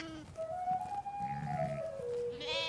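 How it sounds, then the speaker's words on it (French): A Siroua sheep from a flock in Morocco's orange hills bleats in one long, wavering, nasal call, close and clear, followed by a higher bleat. "on peut croiser à l'automne les troupeaux de moutons sirois."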